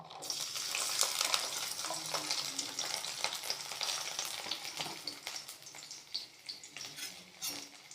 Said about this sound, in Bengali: রসুনগুলো ভাজবো।